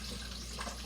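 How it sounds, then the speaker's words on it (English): Water poured into a home coffee maker's reservoir, a brief, close and steady splashing gush with no talking. "I'm going to pour the water in."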